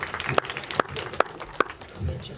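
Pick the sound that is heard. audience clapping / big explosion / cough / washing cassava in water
audience clapping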